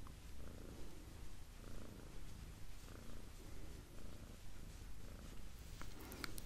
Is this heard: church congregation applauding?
no